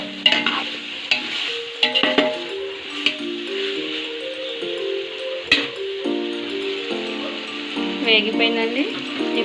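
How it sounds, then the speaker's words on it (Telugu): Coconut and vegetable pieces fry in a pan while being stirred, giving scraping clatters and knocks over a soft sizzle, with a faint voice and some tonal background sound underneath. "కొబ్బరి బాగా వేగాలి. బాగా వేగి కూరగాయ ముక్కలు మొత్తం"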